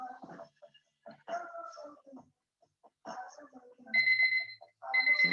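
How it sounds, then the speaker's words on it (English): An exercise timer goes off during a shoulder mobility class: two bright, tonal electronic beeps near the end, following a stretch of quiet talk and small movement sounds. "Timer is up"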